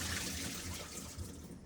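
Water runs steadily from a tap or hose while working on a cracked engine, a brief, continuous splashing rush with no one talking.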